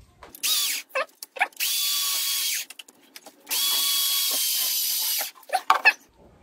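A power tool cutting into a lithium battery clamped in a mini vise, two long loud whining bursts separated by brief stops, with clicks and handling noises in between.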